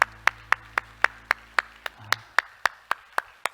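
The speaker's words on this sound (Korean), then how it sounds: "우리 하나님께 영광의 박수." Church worshippers clap in unison to give glory to God, a regular beat of sharp, close claps repeating roughly every quarter second, about fourteen strokes with a low hum in the background.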